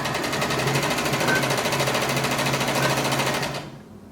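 A sewing machine stitches a fabric mask with a steady, fast mechanical whir and rhythmic needle clatter, loud and close, stopping abruptly near the end.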